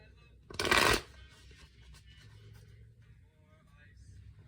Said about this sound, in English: Just gonna shuffle a few more times and we'll split the deck